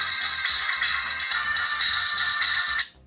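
Music soundtrack playing loudly from a phone speaker, controlled by a smartwatch, and it cuts off abruptly just before the end.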